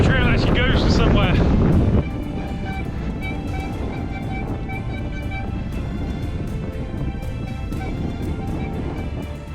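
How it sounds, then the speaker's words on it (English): A relentless, strong cold wind buffets the microphone on an exposed Welsh bikepacking trail near a reservoir, roaring loudly and steadily throughout, with a voice briefly at the start. "I would make my own trail down to seek shelter from this relentless wind tonight"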